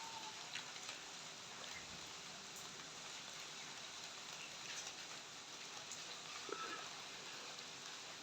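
Rain falling in the dark during a power cut, a faint, even hiss of drops on surfaces that stays steady throughout with no other sounds.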